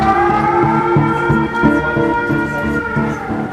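A man imitates a police siren with his voice in a steady, loud, continuous wail that rises and falls over several seconds, accompanied by a rhythmic pulsing beat.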